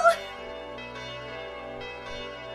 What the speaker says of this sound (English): Oh, the legendary bell.